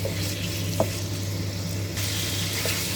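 Pork belly stir-frying in a pan for a crispy fried chilli-salt dish, a continuous close sizzle with a sharp pop or utensil tap early on and a few lighter spatters.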